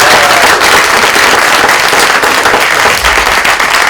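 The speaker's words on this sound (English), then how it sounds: "round of applause" Loud, close applause from an evening event crowd, a dense, sustained wash of many hands clapping at once with no break and no talk over it.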